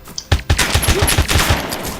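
Rapid automatic gunfire in the video game DayZ, about eight sharp loud shots in a quick rhythmic burst over two seconds.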